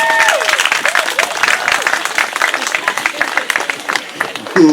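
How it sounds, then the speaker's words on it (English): An outdoor crowd at an ICE Out of Morgan Hill rally claps in a steady, dense patter of applause for the next speaker, with scattered voices and a few cheers over it and a brief shout near the end. "So if we can give him a round of applause"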